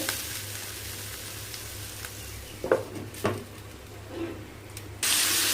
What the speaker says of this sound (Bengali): আর এই পাশে করলাটা ভাজা হচ্ছে।